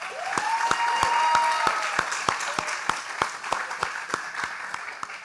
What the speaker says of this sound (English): please give a big round of applause for our host tonight